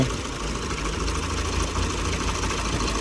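A Volkswagen Crafter van's engine idles steadily up close after a timing belt and water pump replacement, a constant, even mechanical hum and rattle with no speech over it.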